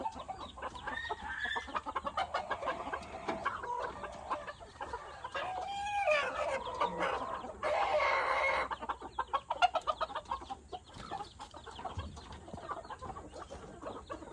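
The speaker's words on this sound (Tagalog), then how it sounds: "we have an American chicken. They are very white." Chickens cluck in a bamboo cage, a steady, fairly quiet run of clucks and calls lasting well over ten seconds with no talk over them.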